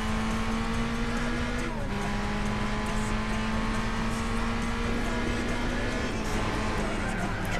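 Suzuki concept race cars roar around the Seattle circuit in Gran Turismo 4, engines droning at high revs with steady pitch shifts as gears change, loud and continuous throughout.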